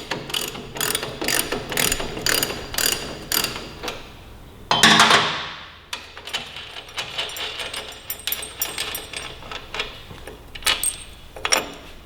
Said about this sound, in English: 24 mil socket. I'm going to break that axle nut loose.